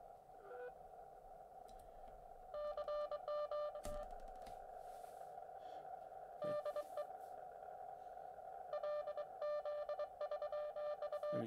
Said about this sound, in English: We are now decoding Morse code.